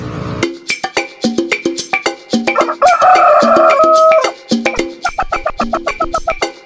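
Chickens cluck and a rooster crows loudly nearby, with busy, choppy clucking before and after the drawn-out crow.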